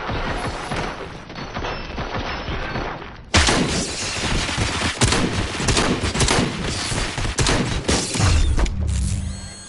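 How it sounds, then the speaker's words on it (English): Gunfire in the video game Robocop: Rogue City, dense sustained bursts of rapid shots and impacts, loud and continuous, with a sharp jump in intensity partway through and mechanical clatter near the end, no talk. "Fire at will."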